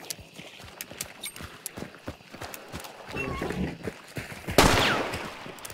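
Gunshots in the Hunt: Showdown video game, a few sharp shots scattered through the match with one loud close blast near the end amid other game noise.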